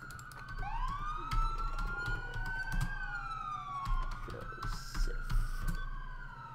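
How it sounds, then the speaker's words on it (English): An ambulance siren in the video game LCPDFR wails, rising and falling in long sweeping tones, steady and fairly close, with a few clicks and thumps underneath. "West Egg Memorial sending an ambulance"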